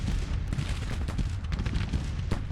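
Artillery cannon fire in the Civil War strategy game Grand Tactician: The Civil War: a continuous rumble of distant booming shots and crackling volleys, fairly loud and dense throughout, with no talk.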